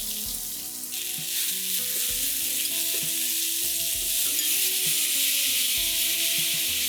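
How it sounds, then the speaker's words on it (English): Chopped spinach and red chilli flakes sizzling in a pan with garlic on low heat, a steady loud frying hiss throughout with soft stirring clinks and scrapes, close up and without talk. "cook the spinach for 2 minutes."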